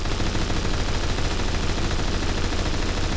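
Loud, rapid automatic gunfire in the Phantom Forces shooter game, a dense unbroken burst of shots filling the entire moment with no talk.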